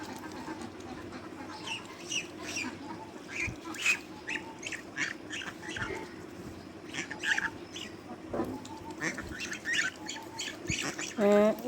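A domestic goose grazing on grass gives occasional honks and quacky calls over a busy outdoor background. A louder honk closes the stretch, and faint voices are mixed in.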